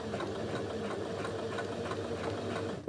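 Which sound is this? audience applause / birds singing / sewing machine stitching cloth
sewing machine stitching cloth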